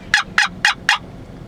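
Wild turkey hens give four quick, evenly spaced gobbling calls, loud and close, with a faint low background beneath.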